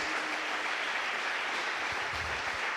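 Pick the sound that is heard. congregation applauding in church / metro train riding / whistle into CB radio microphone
congregation applauding in church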